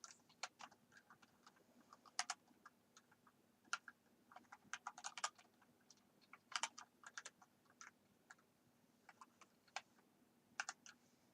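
Steady, irregular clatter of typing on a computer keyboard, with close, quiet key clicks in rapid clusters and brief gaps, continuing for over ten seconds.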